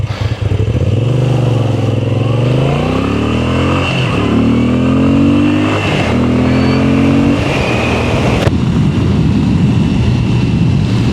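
A 2025 Moto Guzzi V7 Stone engine revs up loudly from a stop at a red light, climbing through several gears with rising pitch and short dips at each shift, recorded up close.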